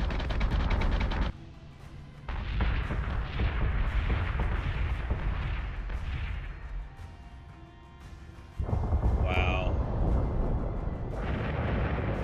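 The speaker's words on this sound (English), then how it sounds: "Oh, totally different explosions for piercers." Piercer missiles explode in the space combat video game Battlestar Galactica Deadlock, making loud booming blasts with rumbling tails. Several bursts come in sequence with short quieter gaps, and a high whining tone sits in between.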